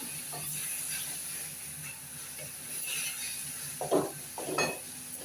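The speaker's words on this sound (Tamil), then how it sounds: "வட்டை வச்சு தாளிக்கலாம்" Hot oil sizzles steadily with a few sharper crackling bursts near the end, as spices are tempered in the pan for tomato chutney.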